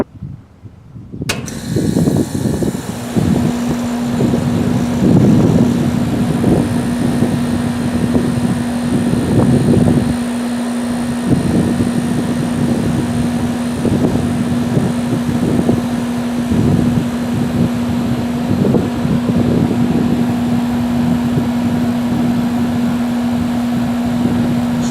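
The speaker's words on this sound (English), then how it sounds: "So I'm going to do a run-up of the first floor one" Carrier air conditioner and air handler on a first-floor system starting up with a sudden onset, then settling into a loud, steady mechanical whir and hum with a constant tonal drone.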